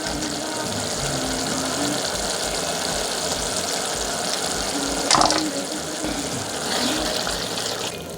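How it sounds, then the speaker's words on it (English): Masala sauce simmering in a pot for a spicy matoke dish, a steady bubbling, hissing wash with a brief louder burst midway, close and continuous without talk. "So I'm gonna simmer it."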